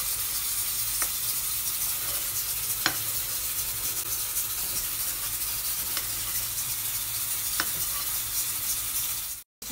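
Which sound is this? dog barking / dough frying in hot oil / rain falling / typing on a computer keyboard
dough frying in hot oil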